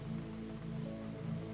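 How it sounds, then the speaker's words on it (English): Steady rain streaming down a large window, a soft continuous wash of drops and trickling water with a low even hum, close and unbroken, no voices. "the rain streams down it in silver ribbons"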